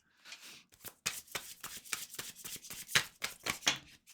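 Fresh tarot cards are shuffled close up in quick riffling bursts, a crisp papery flutter repeating several times in a quiet room.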